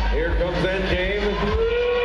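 A FIRST robotics endgame warning signals 30 seconds left in a 2017 Orlando Regional match with rotors and climbing ropes. It is a sustained, slightly wavering horn-like tone that carries for about two seconds over steady, loud arena crowd noise.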